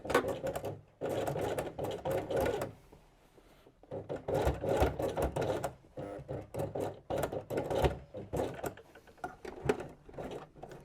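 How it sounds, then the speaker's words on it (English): A sewing machine stitches a denim workwear jacket along a drawn line, running in rapid rattling bursts with short pauses between, close and clear. "so put the stitch length to 3, needle position in the middle, and then follow the drawn line."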